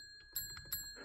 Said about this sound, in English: We don't need a bell on the desk and a bell at the door, okay?